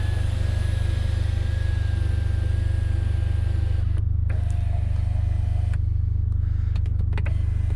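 A 2016 Mercedes-Benz A45 AMG's electric sunroof slides open with a steady motor whir over constant low cabin rumble, dropping briefly to a few faint clicks and small mechanical knocks near the end; no one speaks.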